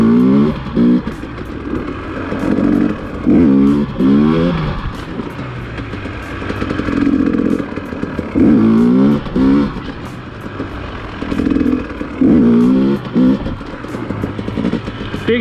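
A dirt bike engine revs in repeated bursts during wheelie practice, each throttle blip rising sharply then dropping back, cycling roughly every few seconds close by without speech.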